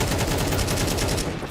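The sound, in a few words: gunshots in the video game Counter-Strike 2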